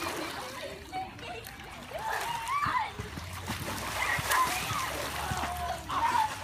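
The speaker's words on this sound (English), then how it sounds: "Wait, I'm gonna do a flip underwater." A child flips underwater in a swimming pool, sending up splashing and sloshing water at close range while children's voices chatter over it.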